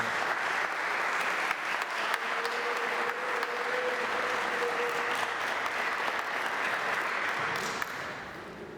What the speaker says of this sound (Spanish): Un aplauso para los expositores.